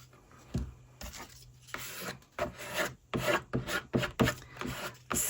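A scraper drags over glued collage paper on a winter journal cover in a series of close, short rubbing and scratching strokes, irregular and fairly distinct, with brief pauses between passes.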